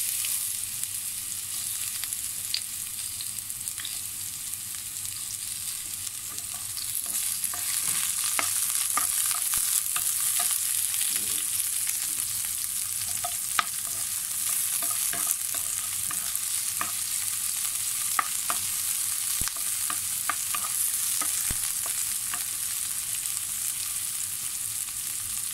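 Onions saute in hot oil in a pan with a steady, dense sizzle and scattered stirring scrapes and clicks, heard alone without talk.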